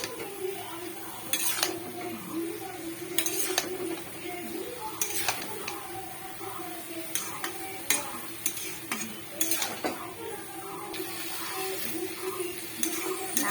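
Ground white mustard paste stirred in a pan with chalkumra shoots, a spatula clanking and scraping the metal in regular strokes over a faint sizzle.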